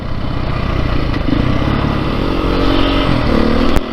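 A 2022 Beta 430 RR-S dirt bike engine drones loud and close while riding, a constant mid-pitched roar with slight swells as the throttle shifts and no voices.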